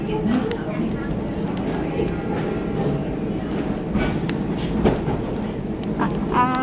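A steady rumble and rattle of a heritage train ride on the Strasburg Railroad in Lancaster County, with clanking car noises throughout and a person talking over it.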